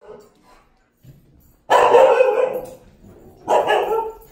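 A dog barks in two loud bursts, the first long and rough, the second shorter, after a few quiet moments of faint sound.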